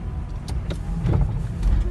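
A home-built electric conversion of a Mercedes B-Class, a 300-volt car on seven-year-old batteries, pulls away with a loud, steady low road rumble and cabin hum, with no engine note, heard from inside.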